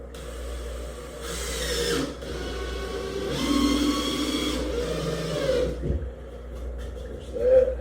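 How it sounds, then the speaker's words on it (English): An electric drill drives screws into soft plastic while a beginner DIY bait tank is built, with two sustained whirring bursts separated by quieter pauses and some handling noise, all close by. "the reason I use a drill and not an impact driver or anything is just so I can gauge with this soft plastic"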